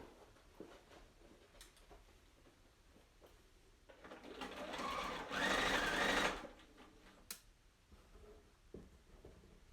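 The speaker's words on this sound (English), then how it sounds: "Now let's get sewing." A sewing machine stitches pinned quilt pieces for a baby quilt, running in a loud steady burst of about two seconds after quieter handling sounds, then stopping.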